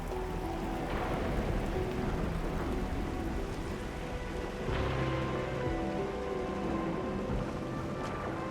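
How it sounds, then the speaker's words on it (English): Heavy rain in an Arknights Endfield game cutscene, a steady dense hiss of downpour filling the scene throughout, with faint low rumbles underneath and no voices. "I can't hear anything except for the rain."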